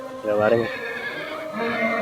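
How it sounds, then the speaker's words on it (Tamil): A horse at the Anthiyur Gurunathaswamy festival horse market lets out a short, loud whinny close by, with crowd voices and market bustle around it. "இங்கே ஒரு குதிரை இருக்கு"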